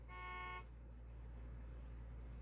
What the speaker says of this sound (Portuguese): Buzina?